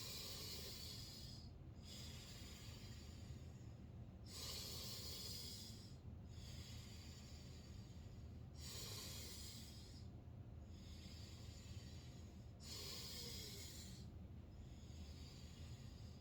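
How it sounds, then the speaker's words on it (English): Slow, deep breaths in and out during a fitness exercise, about six breath cycles repeating evenly over a low, steady background hiss, with no talking. "each time I'm breathing in, my stomach is expanding, and each time I'm exhaling,"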